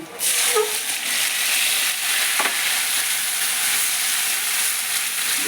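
Mustard paste hits a pan of fried eggplant and oil, bursting into a loud, close hiss that settles into a steady, dense sizzle for several seconds with a faint stir near the middle.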